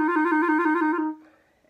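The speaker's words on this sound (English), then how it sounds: "there's a technique in music called a trill" A clarinet plays a rapid trill, two adjacent notes alternating quickly and evenly at a clear, moderate level for about a second before the tone cuts off and fades.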